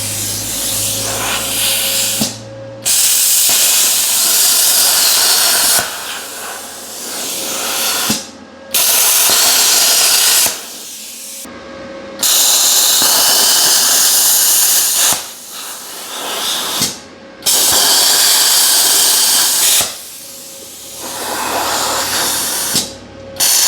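A Harbor Freight plasma cutter cutting metal plate in a vise, giving loud, close, sustained hissing bursts of a few seconds each that repeat about seven times with short quiet gaps between.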